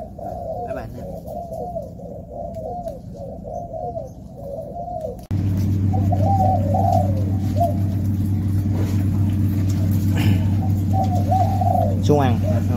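Pigeons coo over and over in steady, low repeated calls while a person speaks nearby, and partway through a constant engine-like hum starts and continues underneath.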